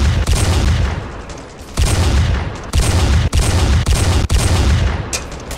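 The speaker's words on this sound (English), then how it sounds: "Very good velocity of this gun" Rapid bursts of gunfire from a weapon in the video game Ravenfield, loud and dense, with repeated volleys broken by a few brief pauses and no talk.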